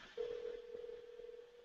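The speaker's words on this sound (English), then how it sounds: "It's ringing. It's ringing." Outgoing phone call ringing, a steady quiet electronic ring tone holding one pitch against a soft background hum, with no voices over it.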